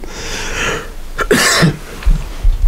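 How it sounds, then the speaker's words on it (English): A few harsh, close coughs in quick succession, loud and raspy, followed by a couple of softer throaty bursts. "I'm coughing right now."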